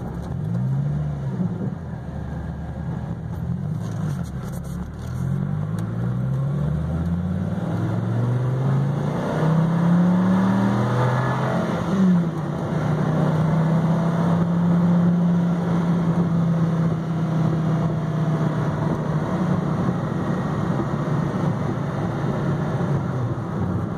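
A 2010 Dodge Viper, a repairable salvage car, cruising at about 60 mph with a steady loud engine drone and road noise, the engine pitch rising and falling slightly as it drives.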